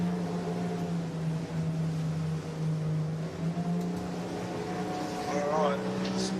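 Skiff engines drone steadily at a 16ft and 13ft skiff state championship on the water, a constant low hum filling the whole stretch with a rising whine near the end.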